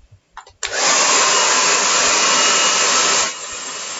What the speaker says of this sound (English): just hit it with the hairdryer to dry it off